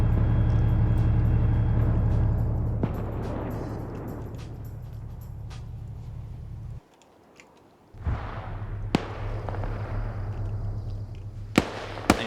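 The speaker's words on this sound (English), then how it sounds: "we got autocannon fire going out and about" Autocannon fire from a vehicle in a video game: a sustained, loud roar of rapid firing that drops out for about a second, then resumes with sharp cracks punctuating the continuous rumble.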